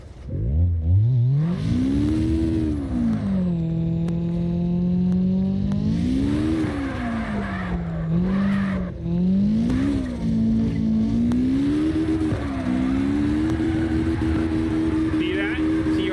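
Engine revving and tyres squealing through a handbrake drift in the driving game CarX Drift Racing Online, a loud sustained whine rising and falling over sixteen seconds, with someone talking over it.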